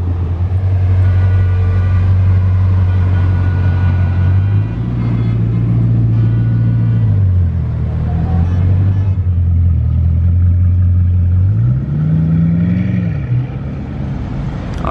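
A Bugatti Chiron's engine gives a loud, close, continuous deep roar that rises and falls in pitch twice as the car pulls away on a rainy day, with no talk.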